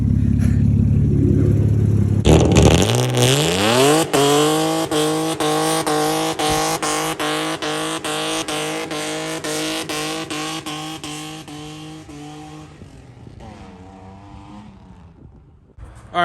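A Toyota JZX100 Chaser's 1JZ engine revs up after a couple of seconds and holds a steady, loud running note. Near the end it drops back, with a brief burst at the close.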